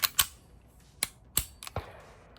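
A Canik TP9SF Elite pistol gives a handful of crisp, close trigger reset clicks, sharp and irregularly spaced over a quiet background.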